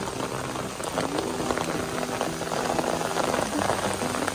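Steady, dense patter of heavy rain drumming on an umbrella close by on a hiking trail, a continuous hiss with scattered sharper drops and no voices.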